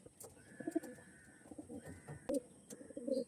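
Pair of pigeons, a male and a female, cooing softly in repeated low throaty phrases over a faint, steady background hum, with a few sharp clicks and a thin whistling tone drifting in and out.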